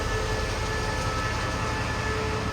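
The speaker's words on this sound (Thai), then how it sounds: "ก็เป็นรถจักรรุ่นใหม่นะครับ" A State Railway of Thailand express train hauled by a new locomotive rumbles past nearby with a loud, steady roar and a faint sustained whine, no voices.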